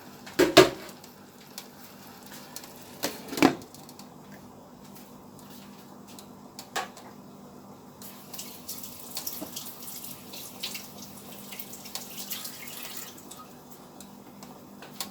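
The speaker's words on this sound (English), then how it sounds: "So put a little water in here." Water trickles and splashes into a roasting pot of chicken breasts in quiet bursts, with a couple of louder clanks near the start and faint sizzling underneath.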